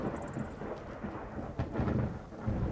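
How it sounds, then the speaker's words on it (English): Thunder rolls through a building storm in the Skyrim VR video game with the Vivid Weathers mod, a low steady rumble with louder swells and rain hiss, heard alone. "there's a storm in the game. I was like, why do I hear thunder? But it's because a storm is starting."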